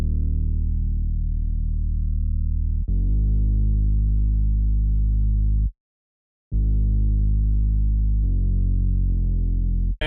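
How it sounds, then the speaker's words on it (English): Deep synthesized bass from a trap beat built in FL Studio, a loud sustained low tone holding long notes, briefly cutting out to silence and returning, with no other sounds or voices. "And then I added this bass sound."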